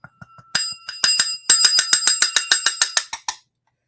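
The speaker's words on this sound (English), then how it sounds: "Ring the bell. Ring the bell." A bell rings again and again for a celebration on a live end-of-year show, a few light taps first, then a rapid, loud, bright series of strikes that rings on for about three seconds and then stops.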